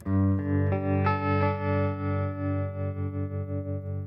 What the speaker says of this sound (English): Now we've got tremolo.